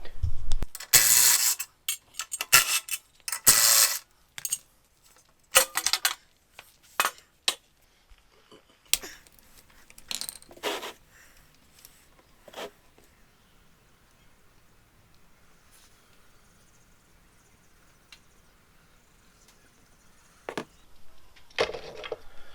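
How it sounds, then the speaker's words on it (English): Tools and metal parts clatter while the skid plate comes off a KTM 1290 adventure motorcycle before an oil change, sharp close clanks and taps in clusters, then long quiet stretches and a few final knocks. "Let's get the skid plate off and the oil drained."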